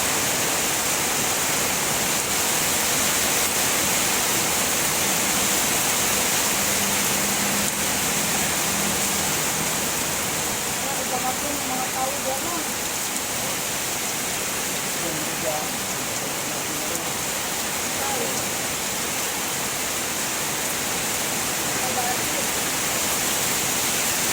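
Rain falls heavily and steadily outdoors, a dense, loud, continuous hiss throughout, with faint voices underneath at times.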